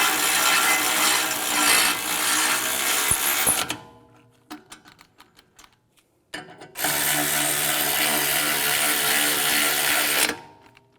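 Brake caliper bolts on a 2004-2010 BMW X3 are tightened with a hand ratchet, producing two long, loud bursts of rapid clicking close by, separated by a few brief softer clicks and a pause.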